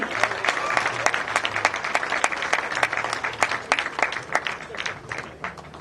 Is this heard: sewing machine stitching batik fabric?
no